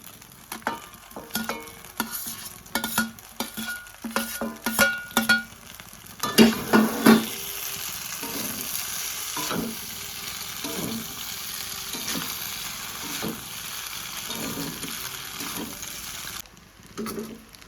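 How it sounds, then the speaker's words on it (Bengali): Vegetables with a little turmeric and salt frying in a pan, stirred with a utensil: a steady close sizzle runs throughout, with a burst of scraping, clattering stirring strokes in the first seven seconds and occasional later taps. "হালকা ভেজে নিয়েছি এখন দেবো ভাজা সবজিগুলো সব"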